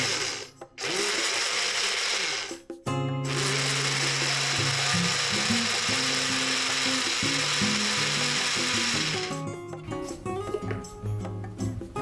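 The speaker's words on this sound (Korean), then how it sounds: "그라인더로 갈아주세요." An electric grinder whirs loudly as it grinds sesame seeds with sugar, mirin and water, starting in short bursts, then running in a sustained buzzing whir before it stops and leaves clattering and settling noises.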